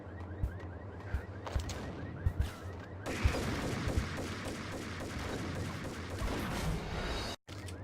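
Repeated shotgun blasts in the Max Payne video game, several sharp reports at irregular intervals over a dense, noisy background of game action and gunfire.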